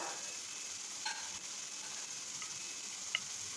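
Onions fry quietly in a pan for a beef brain bhuna, making a soft, steady sizzle with a couple of faint clicks of stirring, low and even throughout.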